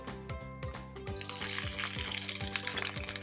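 Onions frying in Baguio pure coconut oil over medium heat: a soft, steady sizzle that swells into a louder, bright crackle after the first second and keeps going, with a musical backing underneath.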